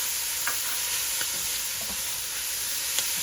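Onions and green peppers sizzle steadily in a hot pan for cabbage and noodles with kielbasa, a soft continuous hiss with a few faint clicks of stirring, no voices.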